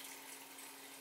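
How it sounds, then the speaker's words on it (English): Tap water running steadily into a pot, filled for boiling pasta in a home kitchen, a soft continuous splashing stream heard close by with no one talking. "I'm also going to get my water ready to boil for my pasta. So I'm going to put my water in there."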